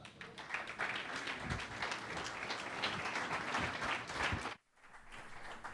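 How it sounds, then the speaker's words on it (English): A conference crowd at a startup festival applauds a panel of venture capitalists, with loud, busy clapping that runs steadily, cuts out for a moment, then resumes. "Let's give them a warm round of applause."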